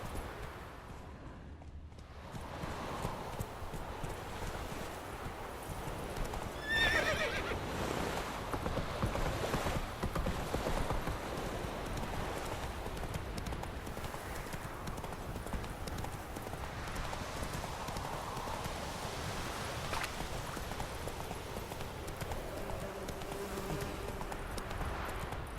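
Geralt's horse Roach gallops in The Witcher 3, a steady rhythmic clip-clop of hooves running continuously at close range over faint ambient wind and environment sound.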